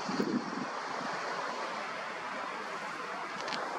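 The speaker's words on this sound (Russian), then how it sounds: "Ветер явно усиливается" Steady broadband wind rushing and buffeting a microphone, continuous and fairly loud throughout, with no voices.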